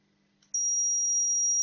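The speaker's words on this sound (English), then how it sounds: "It will give a audible alert using a buzzer." A single steady high-pitched electronic buzzer tone from an Arduino access-code lock signalling an incorrect password starts abruptly and holds continuously, loud and clear against near silence.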